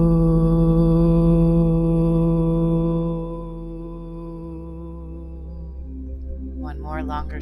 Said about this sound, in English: We'll chant a deep earth tone